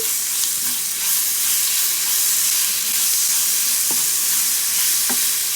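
A spoon stirs grated mango and turmeric into rice for mango pulihora, making a steady scraping rustle over a soft sizzle, with a couple of sharper utensil knocks near the end. No one speaks.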